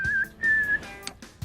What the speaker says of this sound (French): Les données sont converties en une série de sifflements.